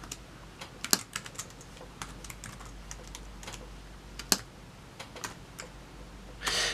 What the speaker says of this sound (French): Vous voyez, on peut taper correctement.